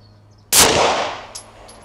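One close, loud rifle shot at a target, a sudden sharp report that rings out and decays over about a second, with a faint knock afterward.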